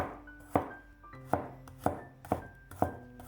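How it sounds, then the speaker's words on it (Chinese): Peeled garlic cloves are sliced with a knife on a cutting board, giving seven crisp, close chops in an even rhythm about half a second apart. Faint ringing tones sit between the strokes, and no one speaks. "几瓣去皮的大蒜切成蒜片"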